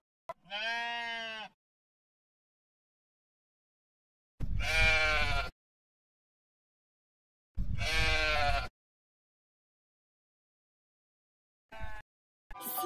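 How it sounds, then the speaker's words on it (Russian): A sheep bleats loudly and clearly three times in long wavering calls separated by silence, with a shorter fourth bleat cut off at the end. "Овечка говорит бе. Бе-бе."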